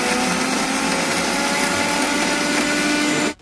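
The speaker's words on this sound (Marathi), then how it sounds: "मिक्सरमध्ये बारीक करूयात." A kitchen mixer grinder blends garlic, coconut, ginger and coriander into a masala for a village-style crab curry, a loud steady whirring drone that runs without a break, then cuts off abruptly at the end.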